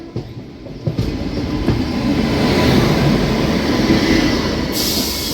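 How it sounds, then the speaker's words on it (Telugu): A Bengaluru to Howrah express train rolls through Renigunta Junction, its steady heavy rumble and rattling wagons filling the scene loudly and continuously, with faint wheel squeal and clickety-clack rising over the constant roar. "బెంగళూరు నుంచి హౌరా వెళ్తున్నారు బండి ఇది"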